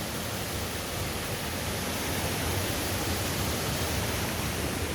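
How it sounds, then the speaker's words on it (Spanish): Waterfall and river in the Lacandon jungle roar as a dense, steady wash of rushing water, loud and unbroken with no voices. "las cascadas, el río."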